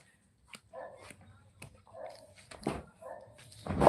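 A dog gives several short, soft barks and yips in an uneven sequence, fairly close, mixed with brief bumps and a louder burst at the end.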